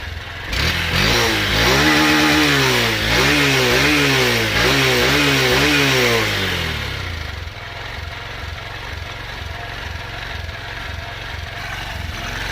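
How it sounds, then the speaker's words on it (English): A 2023 Honda CB125F with a newly fitted Yuminashi throttle body idles loud and close, its engine note rising and dipping unevenly for several seconds before dropping to a steadier, quieter idle with a regular low pulse. "The idle's doing something a little bit funny."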